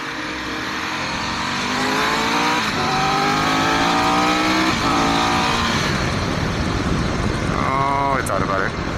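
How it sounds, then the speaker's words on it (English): A car passes on a road amid steady wind and engine noise, a broad wash of sound that swells and fades over several seconds while a person talks over it. "Oh, hello, car."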